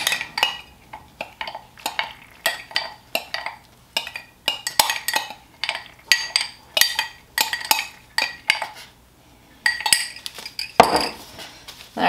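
Small spatulas mixing hot process soap in a crock pot, a steady rhythmic series of scraping, clinking strokes against the pot, close up, repeated many times with no talking.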